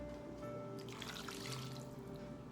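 Water runs from a measuring cup into a soup pot with a steady, soft trickling splash, fairly close and continuous for a couple of seconds, with no talk.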